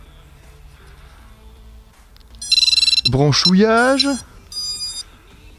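A rapid series of electronic startup beeps from a drone's brushless motor speed controllers rings out, followed by a rising musical tone sequence and a few more beep bursts, with a voice briefly speaking in French.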